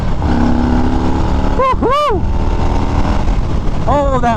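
A 2021 Harley-Davidson Street Bob 114 motorcycle engine drones steadily and loudly throughout at riding speed, with a rider's voice whooping briefly over the rumble.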